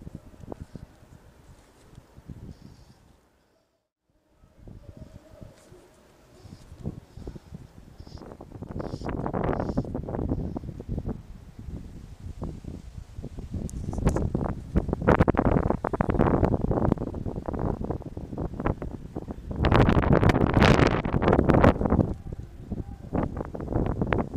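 Wind gusts and buffets the microphone outdoors during fly fishing for rudd, in rough, rising surges with a brief lull near the start and louder blasts later on.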